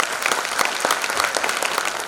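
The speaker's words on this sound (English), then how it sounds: "Give them a big round of applause, parents." Parents in the audience at a preschool annual day event applaud steadily, a dense, even wash of many hands clapping at once that holds without pause.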